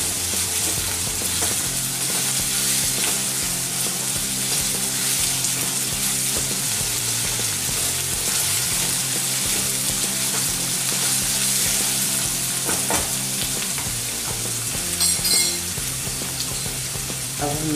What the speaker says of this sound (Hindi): पहले फ्राई करके लेंगे। गैस की फ्लेम बड़ी रखेंगे।